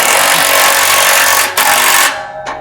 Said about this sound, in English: You want to use your 3/4 inch wrench and socket.